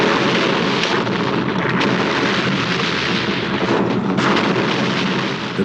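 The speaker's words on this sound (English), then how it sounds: "The biggest in Asia explosion." Huge factory demolition explosion for a film stunt: a loud, sustained roaring blast with rumbling debris and crackling fire that continues throughout, no voices.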